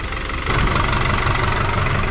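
A tractor engine, recently repaired with a fuel pump adjustment, runs close by at a steady idle. A loud, dense rumble grows slightly stronger after a moment and holds a constant rhythmic chug with no talking.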